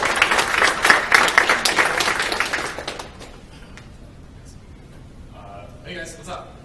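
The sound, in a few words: audience applause for Ryan Stunkel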